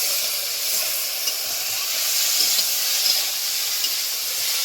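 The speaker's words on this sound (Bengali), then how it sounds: "আমাদের ভাতের হাঁড়িও ফুটে উঠেছে, মা ঢাকনা খুলে দিয়েছে, দেখো টকবক করে কিরম ফুটছে দেখো।" Rice boiling in an uncovered pot on a village kitchen fire, giving a steady close hiss and seethe with faint bubbling pops, heard alone with no voices.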